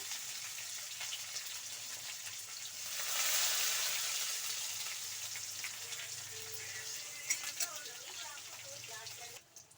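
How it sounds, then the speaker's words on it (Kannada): Onions frying in oil for a sprouted gram curry, a steady broadband sizzle that swells for a moment and then settles, with a few faint clinks and a voice speaking over it. "ನೋಡಿ ಈರುಳ್ಳಿ ಎಲ್ಲ ಫ್ರೇ ಆಗಿದೆ"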